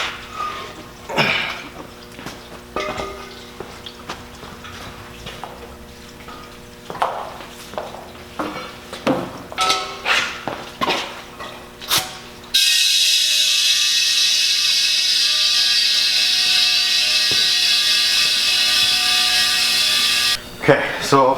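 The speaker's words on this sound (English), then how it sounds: "I had to wait for the air compressor to shut off so that you guys can still hear me" An air compressor kicks on during tire and wheel work, first with scattered clanks and a voice talking, then a loud steady drone that runs for about eight seconds before cutting off.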